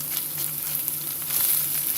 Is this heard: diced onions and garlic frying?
yes